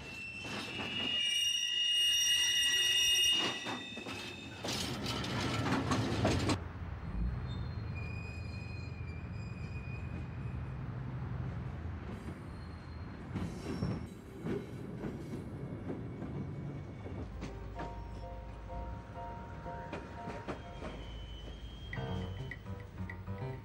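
Freight wagons brake in a railway marshalling yard with loud, sustained high-pitched wheel squeal up front, then a lower rumble of rolling cars and further intermittent squeals later on, with no talk.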